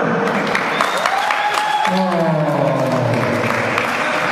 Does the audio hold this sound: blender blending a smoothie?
no